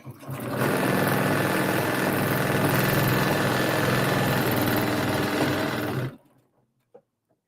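Sewing machine stitching a quilt runs steadily at close range for about six seconds, then stops abruptly, leaving near silence with a faint click.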